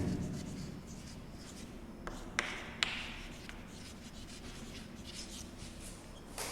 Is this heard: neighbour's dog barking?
no